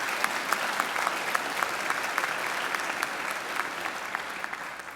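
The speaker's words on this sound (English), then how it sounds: "he deserves another great round of applause." A graduation ceremony audience applauds steadily, a dense, even wash of many hands clapping that holds at a constant level throughout, with no voices over it.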